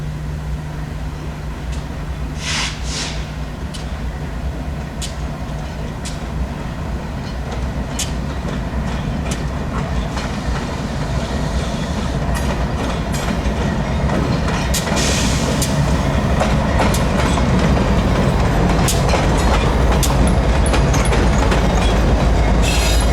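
A BNSF freight train rolls past the Whitefish station in Montana, a steady rumble building slowly with rhythmic wheel clicks and occasional squeals over its whole length, loud and close with no talking.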